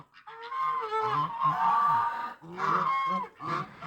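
Geese in the snow giving repeated nasal honks, several overlapping calls in quick succession, fairly close and clear with short gaps between bursts and no talking.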